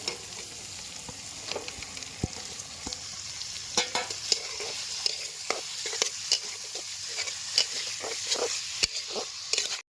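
Chopped chicken frying in a pan with onion, ginger and garlic paste and chopped chilli, a steady close sizzle broken by frequent sharp spatula scrapes and taps, with no talking.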